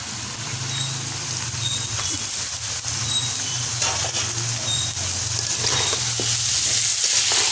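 Rice and lentils frying in a pan for khichuri, a steady close crackling sizzle with faint stirring scrapes, no talk, holding at an even loudness throughout.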